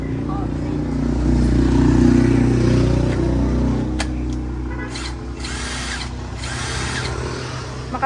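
A power drill bores into thick concrete while building a drainage outlet for a washing machine, giving a loud, steady grinding roar that eases off as the bit sticks, with broken high bursts toward the end and voices faintly mixed in.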